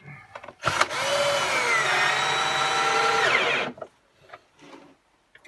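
A cordless power screwdriver whines loudly and steadily for about three seconds while driving a screw during a narrowboat fit-out, its pitch dipping slightly under load before stopping, followed by faint handling clicks.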